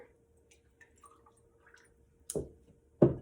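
Water is poured into a grocery-store flower arrangement of chrysanthemums, with faint drips followed by two short, close splashing pours near the end.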